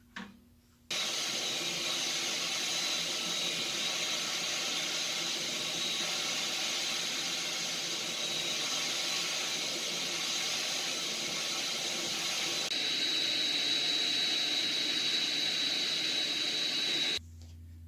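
Shop vacuum fitted with a dust cyclone sucking up sawdust: a loud, steady whooshing roar that starts abruptly, holds for about sixteen seconds with a faint high whine, then cuts off.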